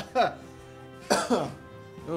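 Two harsh coughs, one and then a double cough a moment later, close to the microphone.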